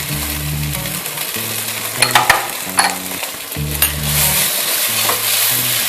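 Potatoes fry with masala in a pan: a steady sizzle runs throughout while a spoon scrapes and stirs in repeated strokes, with a few sharp clinks against the metal.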